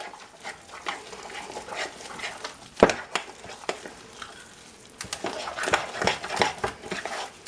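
Skillet bread batter with bacon bits being beaten in a bowl, irregular scraping and clacking strokes of the spoon with one sharper knock, close and moderately loud.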